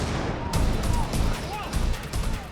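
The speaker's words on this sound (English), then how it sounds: "a second bomb detonates" Bomb blasts rumble in dense, booming bursts with crackling debris, loud and repeated across the moment under a voice speaking.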